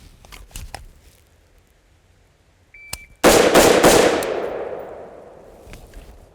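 Faint scattered clicks lead up to a single loud, sharp carbine rifle shot during a speed drill at a shooting range, its blast trailing off in a long fading echo.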